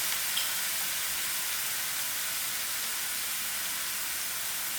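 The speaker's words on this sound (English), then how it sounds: "I'm putting my mustard seed to fry out." Mustard seeds fry in hot oil with a steady, bright sizzling hiss, close and continuous for several seconds with no talk.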